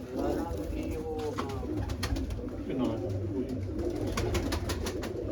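Pigeons coo in a steady stream of soft, throaty calls close by, overlapping one another, while someone talks over them.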